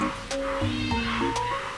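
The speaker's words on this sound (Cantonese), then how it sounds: "呢個係新嘅貓貓嚟喎" A cat meows in a few short, close calls, one after another, in a quiet indoor space with no talking.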